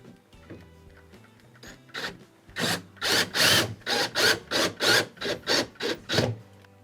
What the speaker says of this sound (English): we want to secure the middle hinge by fastening the right side Phillips style screw